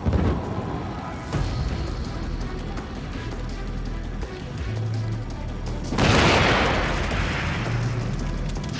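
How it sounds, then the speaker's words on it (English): A blast in the video game Ghost Recon: Future Soldier bursts out loudly partway through over rumbling game noise and scattered booms, then trails off into a lingering roar. "Looked like he caused that explosion."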